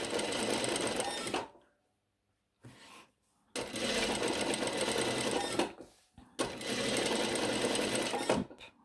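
A domestic sewing machine stitching through a few layers of fabric for a shirt runs in three loud, steady bursts separated by brief quiet pauses, with no speech.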